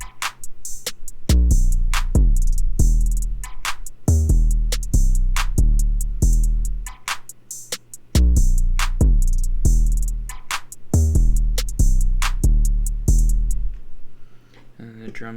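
A type beat with heavy 808 bass notes under crisp hi-hats, snares and claps, a steady looping groove played loud and full for most of the clip before cutting out near the end.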